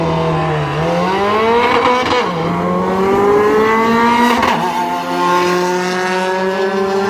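Turbocharged Honda B20 VTEC car accelerating hard down a drag strip, engine note climbing through several gear changes, loud and continuous, with no talk over it.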